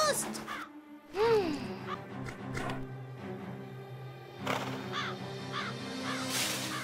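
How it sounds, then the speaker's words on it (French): A crow in a cartoon caws several times in sharp, rising calls scattered across the scene, mixed with animated character voices and other vocal sounds. "Va-t'en, sale corbeau!"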